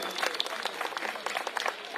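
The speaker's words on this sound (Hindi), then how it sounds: "हमारे विधायक जी के लिए भी एक बार जोरदार तालियां बजा दीजिए" Crowd at a political public meeting claps for the local MLA, a lively burst of many hands with uneven peaks, fairly distant and moderately loud, with a voice faintly mixed in.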